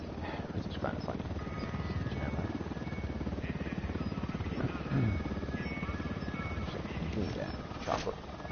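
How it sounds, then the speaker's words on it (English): Helicopter rotor drone from the video game Ghost Recon Wildlands, a steady low throbbing hum running throughout at moderate level with a voice talking over it. "Chopper."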